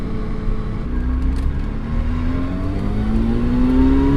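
A 1995 Mazda RX7 FD with a stock 13B rotary twin-turbo engine revving up, pitch climbing steadily over a few seconds, loud and close with a continuous rotary drone and no talk.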